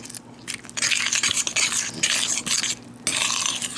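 Homemade slime is squished and mixed by hand in a bowl, giving wet, sticky squelching and slapping bursts that come in uneven pulses with brief quiet gaps, close and fairly loud.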